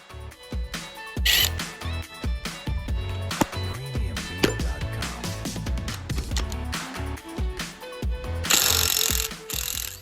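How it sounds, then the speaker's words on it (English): An impact wrench takes the flywheel off a Toyota 2ZZ engine in a run of loud, choppy mechanical hammering bursts with clanks and rattles, nearby and with no talk. "Just use an impact wrench and just be careful that the flywheel doesn't fall on the floor once you're taking it off."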